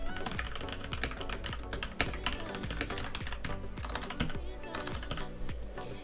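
Steady rapid tapping on a computer keyboard, close and fairly quiet, a continuous run of keystrokes with no talking.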